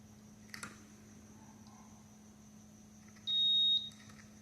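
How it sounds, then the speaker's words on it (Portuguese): A single steady electronic beep, fairly short and clear, sounds after a faint click from an Electrolux washing machine with a faulty charger connection, with quiet background hum throughout. "Aí ó, ele dá o bip."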